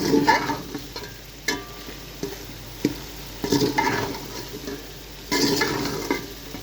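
Arbi pieces in a pan are stirred with red chili powder, giving repeated scraping and clinking strokes of a spoon against the pan over a faint sizzle, close and moderately loud.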